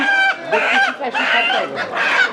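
Native roosters and hens at the Ullapara municipal market cluck loudly and close by in a quick run of overlapping, squawky calls.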